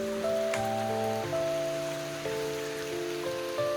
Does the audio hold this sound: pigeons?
no